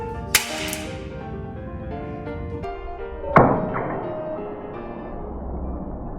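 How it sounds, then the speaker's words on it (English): Two sharp metallic strikes from an impact-testing machine's hammer hitting a fixed point crack out, one early and a louder one midway, each ringing briefly against a steady mechanical hum. "the hammer's hitting it on a fixed point"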